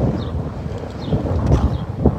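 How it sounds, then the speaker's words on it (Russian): Strong, cold wind by the gulf shore in Saint Petersburg buffets and roars past, gusting in uneven surges with rumbling noise, no voices. "Раз здесь живут, они привыкли к такому сильному ветру, и ветер не теплый."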